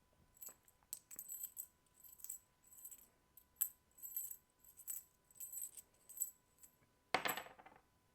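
Coins are tossed for an I Ching reading, a series of light metallic clinks and rattles in small repeated bursts, ending with a louder clattering jingle.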